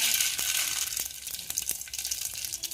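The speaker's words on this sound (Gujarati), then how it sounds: "તેલ ગરમ થઈ જાય એટલે અડધી ચમચી રાઈ" Mustard seeds sizzle in hot groundnut oil in a pot, a steady close hiss broken by sharp scattered pops and crackles, with no voices.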